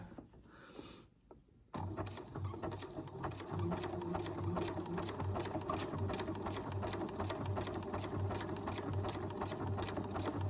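A sewing machine stitching fabric while sewing Greek letters, starting after a brief pause and then running in a fast, steady mechanical chatter, close and alone.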